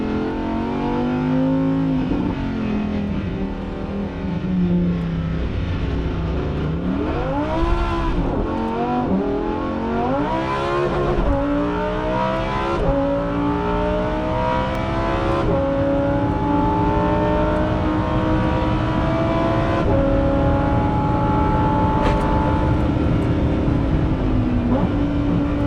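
Lamborghini STO engine accelerating hard at the Nürburgring in Trofeo mode, loud and close, with repeated rising revs and quick upshifts over about 25 seconds and no talk.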